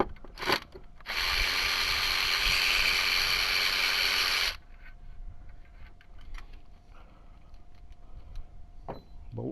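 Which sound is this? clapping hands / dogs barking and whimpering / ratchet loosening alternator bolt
ratchet loosening alternator bolt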